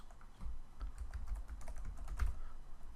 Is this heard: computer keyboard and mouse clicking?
yes